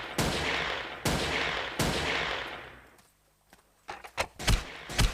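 Three loud, evenly spaced gunshots ring out with long decaying reverb in the voxel shooter Ace of Spades, followed after a short pause by a rapid cluster of sharper, closer shots.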